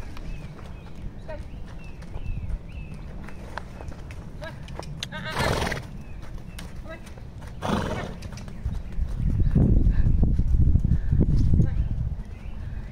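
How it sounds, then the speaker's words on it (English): A horse trots in circles during a lunging lesson for respect with a difficult horse: steady hoof clip-clops, a whinny partway through, and people talking over the sound. "That's a much better trot."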